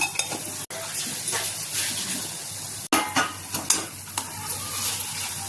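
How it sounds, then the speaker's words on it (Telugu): Three eggs fry and get stirred and turned in a pan for a garlic-chili egg dish, giving a steady close sizzle broken by scraping strokes and a few light clinks of the spatula against the pan. "గుడ్డుని ఇలా టర్న్ చేసుకుంటా వేసుకోవాలి. ఇంకా మాడిపోకుండా కలుపుకోవాలి."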